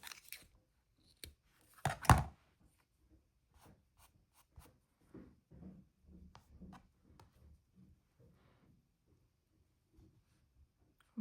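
Scissors snip through art doll feathers, giving a series of sparse, soft, close cuts and light rubs, with one louder crisp snip near the start.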